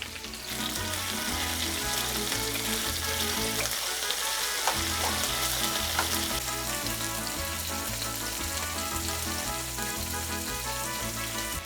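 Rinsed cactus paddles (nopales) and onion frying in a pan for fajitas, a loud steady sizzle with crackling that runs on without a break and close, with no talking.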